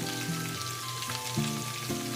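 Garlic fries in a pan for Filipino pork adobo with a soft, steady sizzle and crackle, fairly quiet. Faint background tones sit beneath it.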